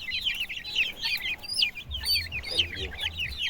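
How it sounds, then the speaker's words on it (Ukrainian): Hens clucking in a home flock, a steady run of short repeated calls close by, with faint low background noise and no voices. "тобто це тільки курочки"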